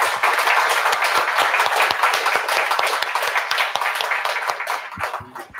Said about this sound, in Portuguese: E uma salva de palmas para a Giovana.